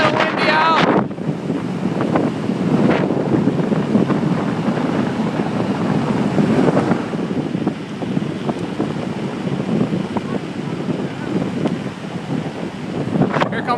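Strong wind blowing outdoors, roaring and buffeting the microphone steadily for the whole stretch, loud and broadband with occasional gusts.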